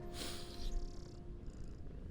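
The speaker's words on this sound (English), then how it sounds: "There's a little kitty sleeping next to me" Sleeping cat purring very close, a soft, steady low rumble that runs throughout, quiet and alone.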